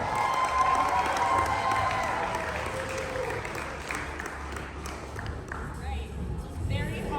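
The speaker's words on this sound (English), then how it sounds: "Let's give a big round of applause. Let's give a huge welcome to our cosplay" A crowd at a Texas anime convention cosplay contest claps and cheers to welcome the judges, a dense sustained wash of applause that tapers slightly and lifts again near the end, with voices mixed in.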